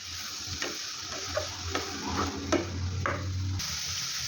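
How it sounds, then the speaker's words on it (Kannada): Carrot and beetroot fry together in a pan, stirred with a spatula. A gentle, steady sizzle runs throughout, broken by a few sharp taps and scrapes of the spatula against the pan, close and without voices. "ಕ್ಯಾರೆಟ್ ಹಾಗೂ ಬೀಟ್ರೂಟ್ ಎರಡೂ ಫ್ರೈ ಮಾಡ್ಕೊಳ್ಳೋಣ."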